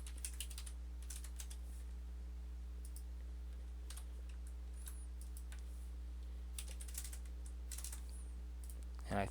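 Keys tapped on a computer keyboard while entering a booking number, a series of light, scattered clicks over a steady low electrical hum, fairly quiet and with no talk.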